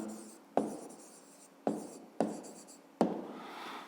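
A pen scratching on paper as an answer is written down for a fifth-grade maths exercise, four sharp onsets each followed by short strokes of writing, close and clear with no talk.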